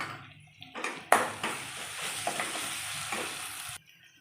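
Tomatoes and onions sauté in a pan with a soft steady sizzle, stirred with a few clinks and scrapes against the metal, close and fairly quiet, ending abruptly, no talk.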